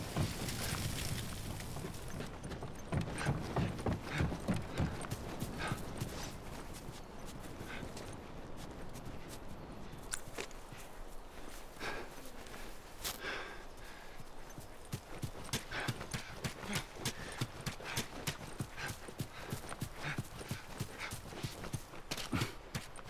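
Horse hooves clip-clop at a steady walking pace in The Last of Us Remastered, a continuous series of crisp knocks with a faint background hum.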